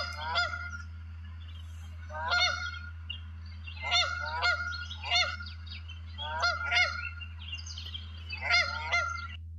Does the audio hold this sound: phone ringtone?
no